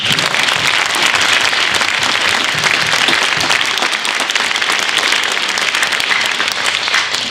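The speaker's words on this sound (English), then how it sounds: "Let's give them a round of applause." Audience at a high school winter band concert applauding honors band students, loud dense clapping sustained evenly for several seconds with no talk over it.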